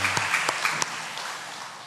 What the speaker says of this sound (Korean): 영광의 박수 올려드립니다.